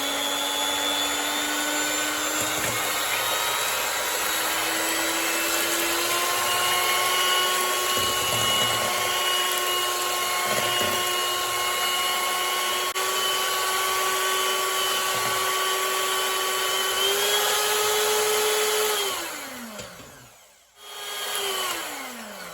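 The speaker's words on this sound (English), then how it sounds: "I will be using my handheld mixer for mixing purposes" A handheld electric mixer beats red velvet cake batter with a loud, steady motor whine close by. The pitch creeps slightly upward, then winds down and cuts off near the end.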